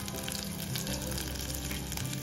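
Curry leaves and finely chopped green chili sizzle in hot oil with a thick, continuous crackling hiss, close and loud, and no one speaks over it.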